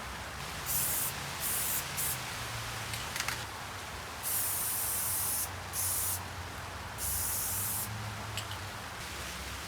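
Spray gun applying a coat of paint to a car's nose panel for a budget E36 318ti drift car, with repeated hissing bursts of a few seconds each separated by short pauses, close and steady.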